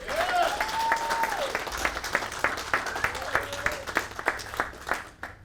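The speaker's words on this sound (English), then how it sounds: "I want everybody to give a round of applause for the reason why we are here" A round of applause at a senior NCO induction ceremony at Lajes Field: individual claps ring out in a moderate, uneven rhythm close by, with a whoop or voice rising over them.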